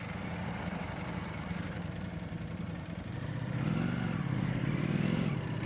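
Ducati Panigale V4 Speciale motorcycle ridden in race mode, its engine a steady, continuous drone that swells slightly louder partway through, with no talk.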